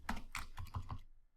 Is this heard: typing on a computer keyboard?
yes